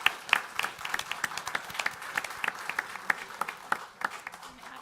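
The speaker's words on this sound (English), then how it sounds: "So we can have a big round of applause for Miwa" A modest group claps at a Springville city council meeting. The applause is fairly quiet, with individual claps clearly audible as separate, uneven hits over a soft background of room noise.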